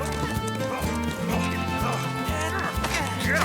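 A horse gallops and whinnies in an animated Zorro adventure cartoon, the hoofbeats and neighing running under a busy music score and shouting voices.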